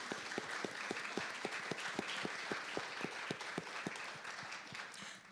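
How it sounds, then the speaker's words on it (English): Audience applause for donors at an evening talk on women's midlife health, a steady wash of many hands clapping with one or two sharp, regular claps standing out, moderately loud and continuous throughout. "Let's give them a round of applause."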